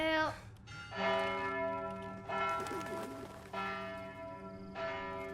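An alarm bell in Witcher 3: Hearts of Stone tolls loudly in five evenly spaced, ringing strokes, each with a long resonant decay and a clear metallic tone, close at hand and mostly alone.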